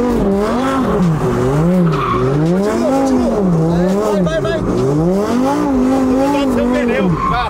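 A Lamborghini with a large steering wheel and a manual gearbox drifts, its tires squealing continuously in loud wavering whines that rise and fall over steady engine noise, close and sustained throughout.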